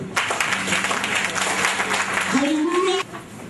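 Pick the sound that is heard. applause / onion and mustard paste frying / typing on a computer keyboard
applause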